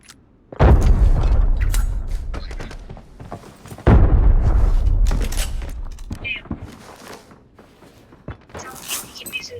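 Two heavy booming blasts a few seconds apart in the video game Arena Breakout, each with a long decaying rumble, followed by scattered clicks and effects.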